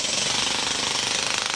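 A pneumatic drill hammers steadily on a street in Phnom Penh, a loud, continuous rapid rattling that fills the whole stretch with no pauses or voices.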